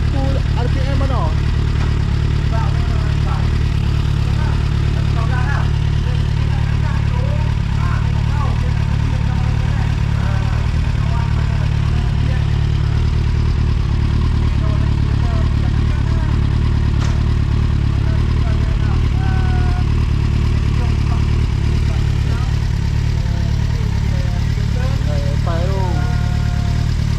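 A Nissan Skyline R33 GT-R engine running with a slight misfire, a steady loud idle drone with a faint uneven stumble, heard close up in a workshop under a man's speech.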